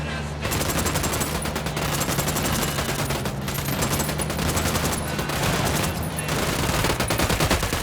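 Sustained automatic gunfire in the Ghost Recon Wildlands video game, dense rapid bursts firing almost continuously and loud throughout, with a brief lull near the middle.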